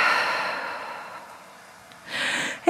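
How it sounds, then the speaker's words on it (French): A long, deep exhale through an open mouth during a Vinyasa yoga class, a soft breathy rush that fades slowly, followed by a brief fainter breath sound near the end. "Ouvre la bouche, expire,"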